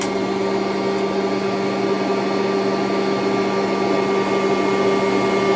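A Kirby vacuum cleaner runs close by with a loud, steady motor whine and airflow roar, holding an even pitch throughout with no voices over it.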